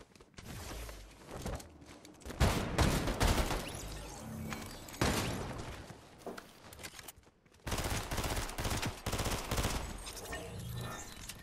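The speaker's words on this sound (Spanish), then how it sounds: "De atrás me están disparando." Rapid automatic gunfire in a Fortnite match, dense bursts of shots from behind, loud and continuous with short gaps, sustained over several seconds.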